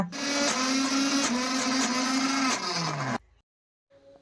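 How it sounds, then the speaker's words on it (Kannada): A mixer grinder whirs loudly and steadily as it grinds hot lentil filling for obbattu, its motor pitch dipping slightly with the load before it cuts off abruptly, followed by silence and a faint clatter. "ಅದಕ್ಕೋಸ್ಕರ ಬನ್ನಿ ಮಿಕ್ಸಿ ಇಟ್ಕೊಳ್ಳೋಣ"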